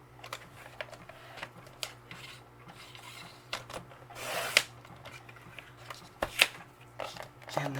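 Scissors or a trimmer cut paper for a tag backing in a craft session, giving intermittent close snips and rustling paper, with a person talking over the work.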